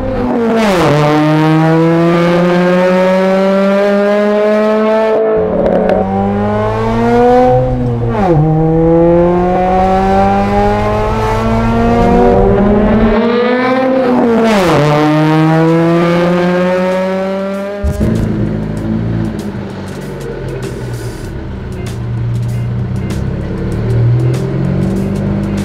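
A custom 1971 Lotus Europa making 320 hp in a 1200 lb car revs hard, its engine screaming up to the rev limiter in repeated loud climbs, then settles into a rough, crackling idle; no talking.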